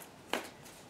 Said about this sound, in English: so we've shuffled the cards